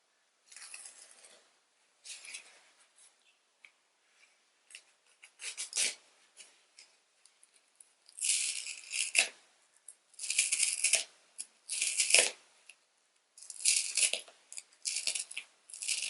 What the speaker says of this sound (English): with this small X-Acto knife. It's not exactly made for cutting foam